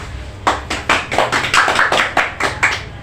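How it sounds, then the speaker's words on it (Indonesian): Students in a grade-six classroom clap together in a quick rhythmic pattern, about a dozen sharp, distinct claps in short bursts, close and fairly loud, with no talking. "Bisa tepuk tangan?"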